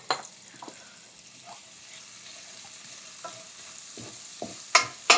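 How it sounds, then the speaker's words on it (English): Finely minced onion frying in a pan with butter, giving a steady close sizzle with a few stirring scrapes and clinks, no talk. "I've got a couple tablespoons of finely minced onion I'm gonna throw in."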